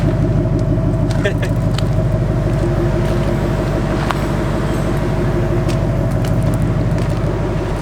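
A Ford Mustang S197 engine with stock, quiet exhaust runs at a low, steady idle nearby, a quiet rumble with voices faintly over it.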